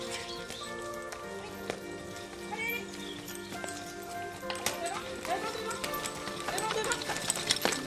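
A horse works in a hillside vineyard, hooves clip-clopping irregularly over rustling ground and equipment noise, while people talk throughout.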